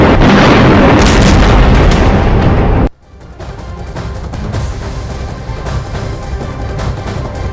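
A JDAM guided bomb, supplied by the US to Israel, detonates in Gaza as one loud, sustained booming blast lasting about three seconds, then cuts abruptly to a quieter rumbling aftermath.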